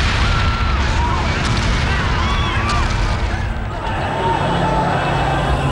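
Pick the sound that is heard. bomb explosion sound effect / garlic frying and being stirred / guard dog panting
bomb explosion sound effect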